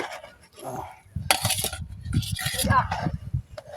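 Lentils (dal) stirred in a cooking pot, with metallic clinks and scrapes of a spoon against the pot coming in bursts, close by, under overlapping conversational voices.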